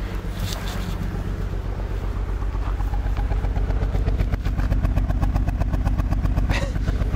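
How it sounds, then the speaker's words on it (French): A BMW 330i inline-six running rough on five cylinders throbs with an uneven, lumpy pulse under heavy wind buffeting, the beat loping like a slow old V8. "Même ces 5 cylindres bizarres, c'est limite, on dirait presque un vieux V8 tout lent."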